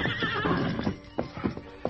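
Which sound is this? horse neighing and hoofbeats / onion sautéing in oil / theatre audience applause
horse neighing and hoofbeats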